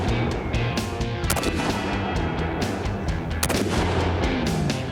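Rapid gunshots fired at the gas tank of a Cadillac car on an outdoor firing range ring out in dense bursts, loud and sharp with echoing tails, including machine-gun-like volleys.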